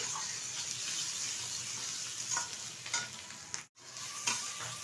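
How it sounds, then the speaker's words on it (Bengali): Ground spices stir-frying on high heat with potato and eggplant chunks in a pan, a constant sizzle broken by scraping stirs, with one abrupt brief dropout near the end and no speech. "আমি কষিয়ে নেব মশলাটা আলু বেগুনের সাথে"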